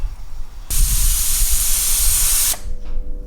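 Air rushes out of an off-road tire through a tire deflator as a loud, steady hiss lasting about two seconds, then cuts off abruptly.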